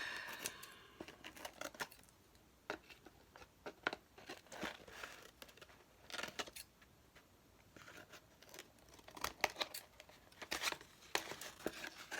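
Scissors trim paper file folders for a garden journal: a close, dry run of crisp snips and papery crinkles in uneven bursts, with no talking.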